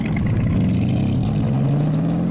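The Devil 16, a 5,000-horsepower supercar, lets out a loud, continuous engine snarl, a steady low drone whose pitch climbs gradually as it revs.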